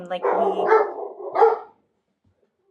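Dog barking in a few short bursts close by, mixed with and followed by a person talking, then quiet.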